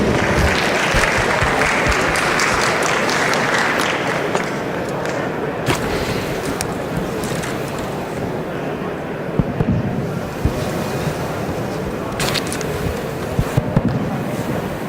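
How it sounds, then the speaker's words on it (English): Dense, loud applause from a summit audience greeting a mobility panel, a thick continuous patter of clapping with some crowd murmur underneath and a few sharp knocks near the end. "Can we give them a round of applause, please?"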